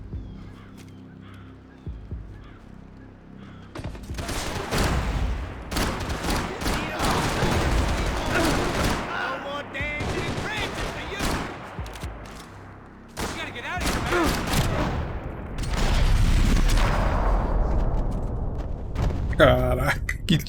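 Bursts of video game gunfire from Max Payne 3 fire in rapid volleys, heavy and close, mixed with shouting game dialogue and a player's excited voice.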